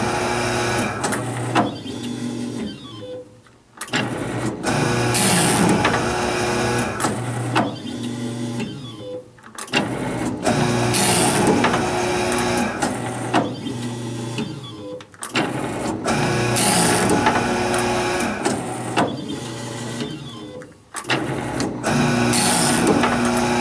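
EBM 18 or 19 PLC electric paper cutter working in index mode, stepping forward and cutting a stack into 2-inch blocks: four repeated cycles of whirring motor and blade stroke separated by brief lulls, close up with no talk.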